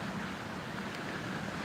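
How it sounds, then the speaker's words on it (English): Ocean waves at Surin Beach in Phuket, Thailand, rush as a steady, broad hiss of surf, captured on a phone, with a soft continuous wash and no talking. "I'm pretty confident you can hear the waves, you can hear that white noise"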